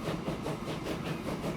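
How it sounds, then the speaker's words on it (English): Small train climbing a big hill in the game Transport Fever 2, a steady rumbling engine drone with faint rhythmic pulsing, moderately quiet and alone without talk. "Pretty big hill for one small train."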